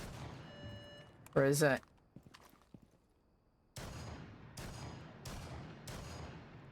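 Rainbow Six Siege shotgun shots ring out in quick succession, four sharp blasts with decaying tails in the later part, after a brief spoken question and some quieter in-game handling noises.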